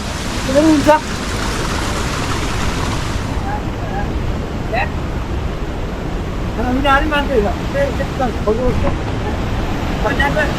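A forest stream rushes over rocks, a steady broadband roar of flowing water close by, with people talking over it now and then.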